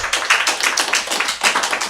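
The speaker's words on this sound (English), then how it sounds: "Nice round of applause for Davin Infinity." An audience applauds steadily for a performer on a TV show set, a dense spread of close hand claps with an even rhythm over two seconds.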